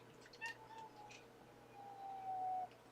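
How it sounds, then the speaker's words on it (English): A mother cat meowing indoors: a couple of short meows followed by a longer, drawn-out meow, moderately close against a quiet background. "Oh, Mama Cat is in the building."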